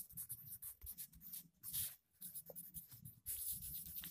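A pen scratches out an answer on paper during a fifth-grade math lesson on angles, faint and close, in quick irregular strokes with a brief pause midway.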